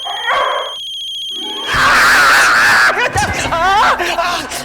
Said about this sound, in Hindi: हाँ पता है फोन बज रहा है।